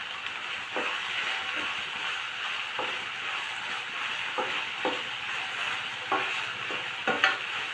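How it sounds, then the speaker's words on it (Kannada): Chopped tomato frying in hot oil with a steady close sizzle, broken by several soft stirring scrapes spread through the clip; nobody speaks. "ಇದನ್ನು ಚೆನ್ನಾಗಿ ಫ್ರೈ ಮಾಡ್ಕೊಳ್ಳೋಣ ಎಣ್ಣೆಯಲ್ಲಿ"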